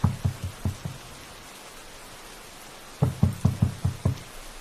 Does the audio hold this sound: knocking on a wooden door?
yes